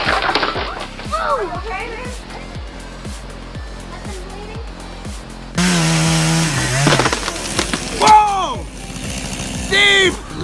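A chainsaw cutting into a tree runs with a rapid, pulsing engine rhythm, then surges louder and higher as it bites in, with shouting voices breaking in around it.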